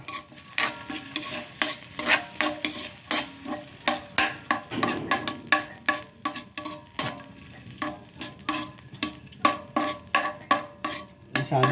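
Tocino, cured sweet pork, being stirred and sautéed in a pan: repeated scraping strokes of a utensil against the pan in a steady rhythm over a continuous sizzle, with no talking.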